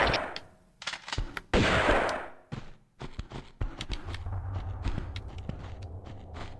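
Rapid gunfire strikes the player character in Tomb Raider 2, a burst of loud, close shots and impacts, followed by busier clattering game effects and a steady low rumble.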